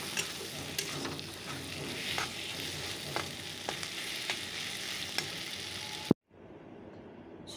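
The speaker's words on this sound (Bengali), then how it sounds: "আর একটু কষিয়ে নিয়ে তারপরে জল দিয়ে দেবো অল্প" Dried fish curry sautéing in a pan, with a close, steady sizzle and periodic spatula scrapes and taps, ending in an abrupt clunk that cuts to quieter room sound.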